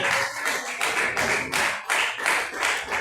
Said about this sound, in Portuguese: Você agradece a oportunidade e as palmas que dá para ele agora, amém?